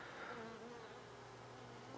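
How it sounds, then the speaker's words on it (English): Honey bees fly around an open hive during a hive split, producing a steady, close droning buzz with a few individual bees whining past. "So we'll see how many of these bees go back to the original hive."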